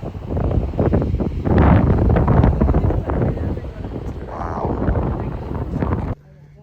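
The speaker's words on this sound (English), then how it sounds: "Sorry, it's really windy." Strong wind at a cliff edge above the ocean buffets the microphone in loud, rumbling gusts for about six seconds before dropping away, with a voice speaking underneath.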